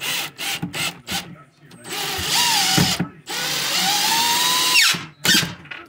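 A power drill drives screws into a butcher block counter in several close, loud bursts of whirring, some short and some sustained, with pauses and someone talking between them.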